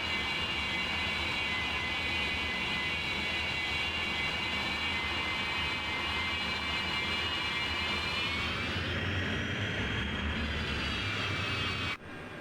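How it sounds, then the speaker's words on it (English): Bush plane engines in a flight simulator drone loudly and continuously, a steady roar that swells and rises in pitch near the end before cutting to a quieter hum. "Wait until you hear the engines on this thing when it takes off."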